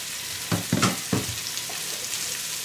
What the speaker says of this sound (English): Stir that in. You don't want the garlic to burn.